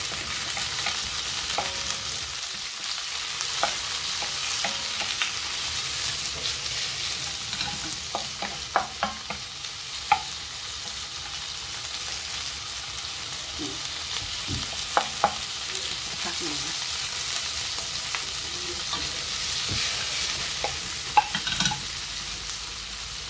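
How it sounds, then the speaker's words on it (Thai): Shrimp and broccoli stir-frying in a hot pan, a continuous close sizzle broken by scattered clicks and scrapes of stirring, with no voices over it. "ใส่กุ้งลงไป"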